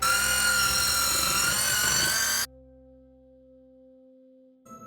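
A handheld electric whisk mixes cupcake batter with a loud, buzzing, tonal whine for about two and a half seconds, then cuts off abruptly, leaving a faint low hum and a small clunk.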